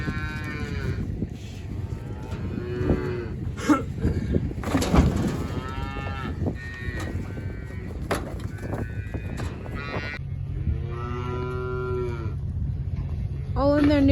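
Cattle in a new pen low repeatedly while feeding, several drawn-out moos rising and falling one after another at close range, with a few other animal and farmyard noises between calls and no talking.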